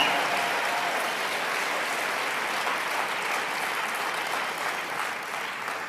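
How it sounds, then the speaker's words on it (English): A large audience gives a long, thick round of applause for the presenters at a motivational seminar, continuous and even throughout with no voices over it. "Let's give all the presenters a tremendous round of applause who've come up and created value."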